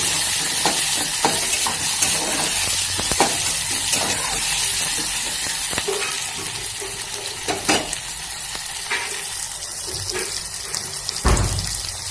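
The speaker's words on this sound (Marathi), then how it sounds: "कढीपत्ता टाकायचा आहे. व्यवस्थित हलवून घ्यायचे." Curry leaves sizzling in hot oil while being stirred for a Maharashtrian varan bhat tempering, a steady crackling fry with scraping spoon stirs and a few clanks close by.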